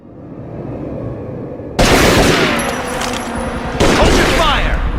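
Gunfire in a 2006 Tomb Raider: Legend cutscene, with heavy bursts of shots that start abruptly and come loud and close, a second volley cutting in after a short lull.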